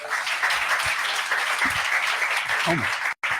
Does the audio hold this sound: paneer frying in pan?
no